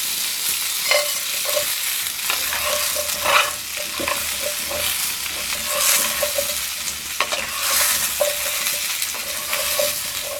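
Onions and spices fry in a pot with a dense, continuous sizzle, close and fairly loud, broken by frequent scraping stirs and light clinks of a utensil, with no talking.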